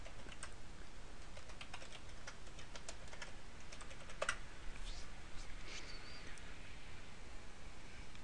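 Quick, light keystrokes on a computer keyboard enter a username and password, a soft run of irregular clicks and taps at close range with a quiet background.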